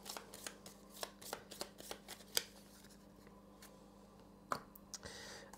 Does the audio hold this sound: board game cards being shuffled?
yes